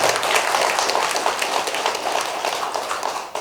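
Audience at a Buddhist temple dharma talk claps for the temple abbot, a dense, continuous patter of many hands, fairly loud and even throughout, fading slightly near the end.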